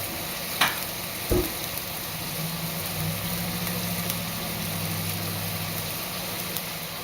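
A sauce seasoned with freshly cracked pepper reduces in a pan with a faint, steady sizzle. A low hum sits under it, and a couple of soft knocks come near the start.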